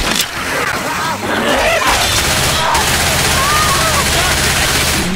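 Gunfire in the zombie shooter Left 4 Dead 2, with rapid overlapping shots and loud bursts filling the whole stretch amid dense, chaotic game noise and shouting voices.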